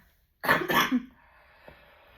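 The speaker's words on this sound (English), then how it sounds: "I feel the urge to cough" One short, quiet cough with a double burst, then near silence with a faint background hum.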